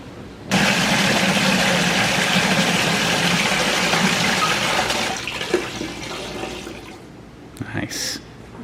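A wall-mounted pressure washer starts up and runs with a loud steady rushing of water and motor for several seconds, then eases off near the end, followed by brief sounds of people.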